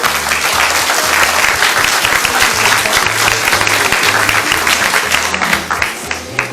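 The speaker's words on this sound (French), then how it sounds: "Et on peut l'applaudir, Francis." Audience applause at a French awards ceremony honouring volunteers and athletes, as Francis Vérel is called up: steady, dense clapping from a crowd, loud and continuous throughout.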